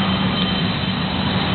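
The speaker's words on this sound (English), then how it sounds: "There goes the airplane." Airplane at an airport, heard as a steady, loud engine roar that holds evenly throughout with no talking over it.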